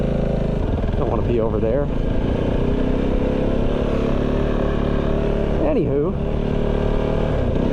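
A Kove 450 Rally motorcycle rides along in second gear, its engine droning steadily and close throughout, rising and falling with throttle changes while someone talks over it.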